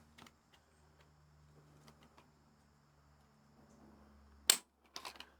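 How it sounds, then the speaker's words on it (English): A Canik TP9SA pistol trigger gives one sharp, crisp click near the mic after a quiet stretch, followed by a few softer mechanical clicks as it resets. "The trigger pull on this thing, do it real quickly."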